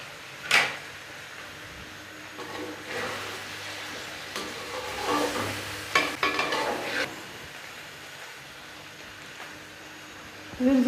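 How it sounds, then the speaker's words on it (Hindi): Chicken and onions fry with turmeric in a pot for a home-cooked aloo gosht curry. A soft, steady sizzle runs under repeated stirring scrapes, with a few sharp utensil knocks near the start and end. "अब मैंने चिकन को भी 2 मिनट फ्राई कर लिया।"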